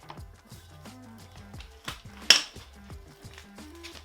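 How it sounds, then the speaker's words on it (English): Metal tools clink and ratchet against steel parts while connecting rod bolts are loosened and end caps are lifted off a Lotus Europa engine during disassembly, a series of close, sharp clinks and scrapes with one louder metallic knock. "We'll start off by loosening all of the connecting rod bolts so we can remove the end caps and the bearings."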